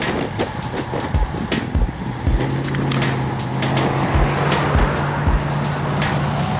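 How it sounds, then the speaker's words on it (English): A truck turning right in traffic, its engine rumbling and rising in pitch, heard from a group bicycle ride on a hot day amid heavy wind buffeting and rattling. "This truck is turning right, yet Abby saw that"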